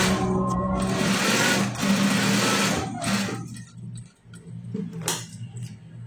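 A sewing machine stitching a school uniform sleeve cuff runs in a fast, steady mechanical rattle, then stops, followed by a few quieter clicks and handling noises close by.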